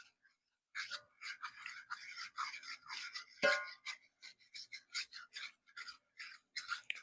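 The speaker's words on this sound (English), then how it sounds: "And we'll just stir that in." A spoon stirring flour into browned sausage and oil in a pan for Southern-style sausage gravy, giving a steady run of short scraping, rasping strokes that repeat about twice a second with one sharper clack partway through.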